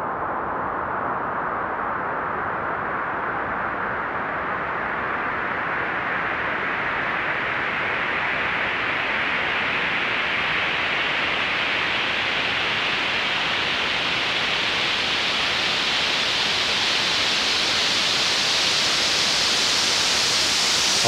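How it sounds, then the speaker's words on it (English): Steady hissing white noise whose tone gradually brightens as a Eurorack synthesizer's Morpheus low-pass filter slowly sweeps open, rising from muffled to airy. "We're hearing the white noise through Morpheus's low-pass filter."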